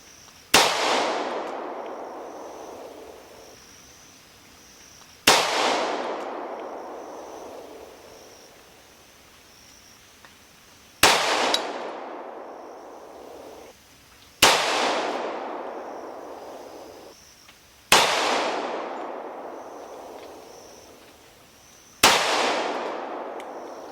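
Five loud gunshots from a Smith & Wesson M&P 2.0 10mm pistol, fired alone at a slow, even pace of roughly one every five seconds, each sharp crack trailing into a long decaying echo.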